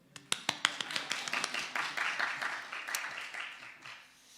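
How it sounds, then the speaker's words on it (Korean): Church congregation breaking into applause: a few sharp separate claps at first, quickly swelling into steady, fairly soft clapping from many hands that fades slightly at the end, with no talk. "박수!"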